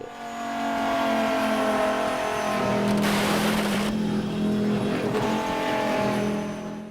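A Viper race car in the rFactor racing game drives in reverse, its engine holding a steady loud drone with a brief gear whine and surge in the middle, continuous and close throughout.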